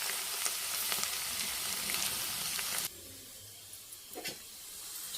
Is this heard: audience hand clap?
no